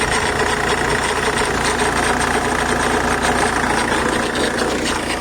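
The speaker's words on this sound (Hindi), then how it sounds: "तुमको इसमें इंजन की आवाज़ के अलावा एक कर की साउंड आ रही है" Vehicle engine idling with an abnormal rattling knock, suspected to come from low steering oil, a steady loud mechanical drone with constant clatter heard up close and alone.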